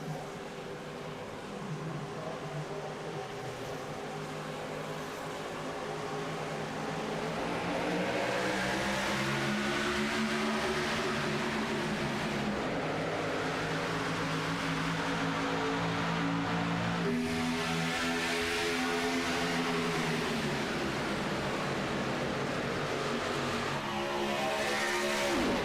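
Race cars roar in a pack at a green-flag restart after the pace car pulls off in a racing video game, engines layered and rising steadily in pitch, loud and continuous throughout with no talk.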